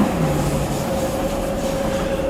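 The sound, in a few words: DLR driverless electric train passing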